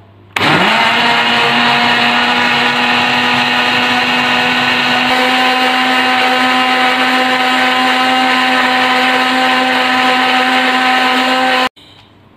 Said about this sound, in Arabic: هنشغل الخلاط